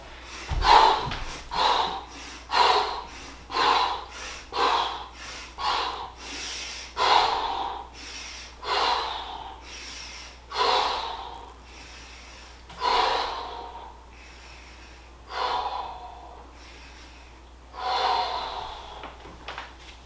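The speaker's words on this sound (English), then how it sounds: "I inhale, I exhale, I hold the breath" Deep, forceful breaths in and out during a recovery exercise, repeating in a steady rhythm about every one to two seconds. They are close and loud, with snorting, gasping edges and no talk.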